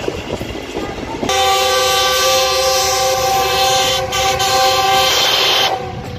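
The TezGam Express on the Lahore to Raiwind line runs at full engine power, with a long, loud horn blast held for several seconds over the rumble and rattle of the moving train.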